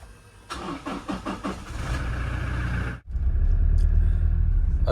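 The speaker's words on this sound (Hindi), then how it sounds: "गाड़ी को एक कोल्ड स्टार्ट देंगे।" Car engine cold started: a quick run of starter cranking pulses, a brief drop, then the engine catches and settles into a loud, steady low idle rumble, close by.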